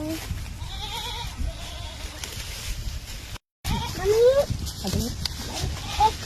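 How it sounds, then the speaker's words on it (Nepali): Goat bleats ring out over outdoor background noise, several wavering calls, with a brief dropout in the middle. "बाख्रा कराकै छ।"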